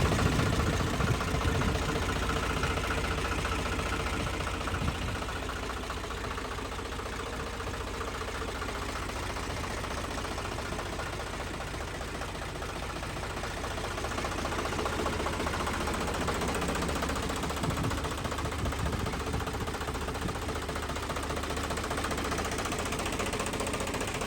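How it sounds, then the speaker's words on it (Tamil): A Massey Ferguson 246 4x4 tractor engine runs steadily for the whole stretch, a dense, unbroken mechanical clatter and drone that stays loud and close with no pauses. "இந்த டிராக்டர் மேசி ஃபர்கூசனில் 246 டயனா ட்ரக்குங்க."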